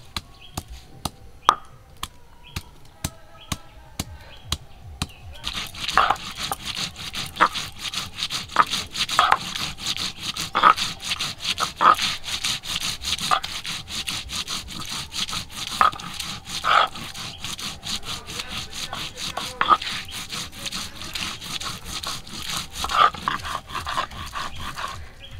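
Whole cumin and ginger are ground on a grinding stone, heard as a close series of rhythmic scraping and rubbing strokes, sparse at first and then a faster repeating back-and-forth grind.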